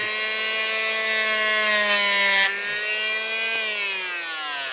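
A high-pitched power tool whines steadily while cutting a fin slot into a carved decoy fish for spearfishing, its tone sagging slightly under load, loud and close with no talk.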